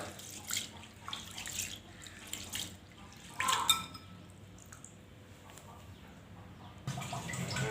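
Water splashes and trickles in a sink as rice is rinsed by hand, soft swishing and dripping with a brief louder splash midway.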